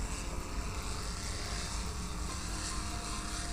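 Steady, continuous drone of propeller aircraft engines in the Wings of Steel combat flight game, heard alone at an even level with no talk over it.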